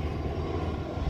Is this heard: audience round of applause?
no